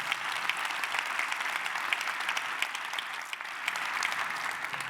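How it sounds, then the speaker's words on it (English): An audience at a public event in Detroit ahead of the NFL Draft applauds steadily for several seconds, a dense, even wash of clapping with no pause. "Let's give that round of"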